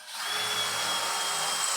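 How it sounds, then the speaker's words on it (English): A power drill bores one hole through a golf cart panel, a steady high whirring grind for under two seconds, close and loud with no speech. "I'm gonna just drill 1 hole in here."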